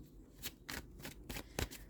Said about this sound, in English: I'm going to shuffle the cards on camera